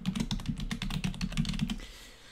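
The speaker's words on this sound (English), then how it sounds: "So right here is where you can start typing things." Rapid typing on a computer keyboard, close and steady, with a quick run of clicky keystrokes that stops near the end, leaving a quiet room tone.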